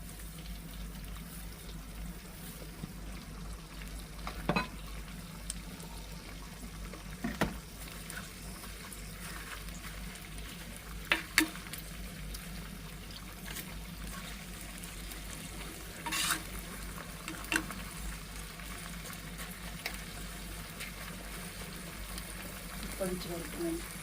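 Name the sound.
herbal oil mixture boiling in a pot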